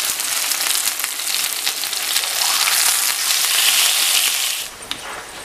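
Chicken for a grilled chicken panini frying in a pan over medium heat, a steady, bright crackling sizzle that swells slightly before dropping away abruptly near the end, with no voices.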